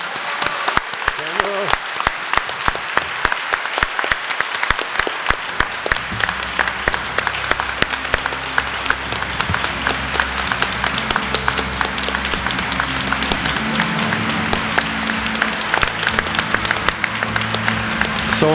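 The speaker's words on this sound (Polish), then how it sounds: "Są oklaski i brawa na stojąco." Standing ovation at a 2021 literary award gala in Poland, sustained dense applause filling the room for the whole stretch, with a low murmur and a voice speaking faintly underneath partway through.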